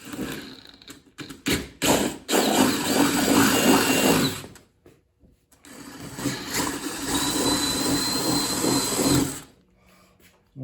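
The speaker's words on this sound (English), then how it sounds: "Okay, so now my hole's drilled." A drill bores a 7/16 hole into a 1997 Honda, running loud in two long bursts separated by short stops and a pause in the middle.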